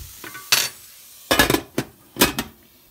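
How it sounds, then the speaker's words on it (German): Metal clanks and clinks at a grill as a lid is set onto a cooking pot with asparagus and zucchini, several sharp knocks with short gaps between them. "Deckel drauf."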